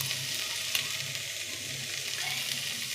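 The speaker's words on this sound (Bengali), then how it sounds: "রসুন লঙ্কা ভাজা হয়ে গেছে, এবার দিয়ে দেবো পেঁয়াজ কুচি।" Chopped onion fries with garlic and chili in hot oil, giving a steady, close sizzle with a few light stirring clicks and no voices.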